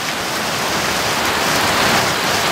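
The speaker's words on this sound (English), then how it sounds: "I'm trying to stay out of the rain here because it's coming up pretty hard." Heavy rain pours down outdoors in a steady, dense, loud hiss that stays unbroken throughout, with no voices.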